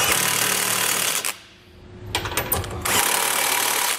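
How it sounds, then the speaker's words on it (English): Impact wrench or power socket driving 7/8-inch bolts on a Curt trailer hitch mounted to the frame rails of a 2021 Honda Pilot, with loud broadband bursts of rattling, separated by short quiet gaps. "we'll come back with a 7/8 socket, and we'll tighten all of our hardware."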